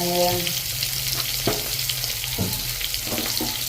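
Vegetable omelette frying in hot oil in a pan, a loud, continuous sizzle with occasional scrapes and stirring clinks layered on top; no voices.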